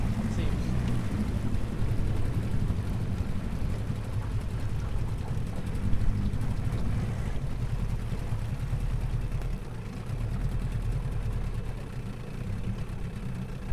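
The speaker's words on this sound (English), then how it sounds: "So let's back it off to idle and we'll see how it's running" An Evinrude 9.5 outboard boat motor idling on the water, a steady low rumbling drone that runs unbroken and fairly loud throughout, with no pauses.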